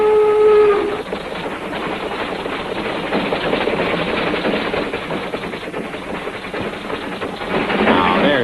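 A speeding train roars along in a cartoon, a whistle tooting briefly at the start before a steady rushing, rattling rumble carries on loudly.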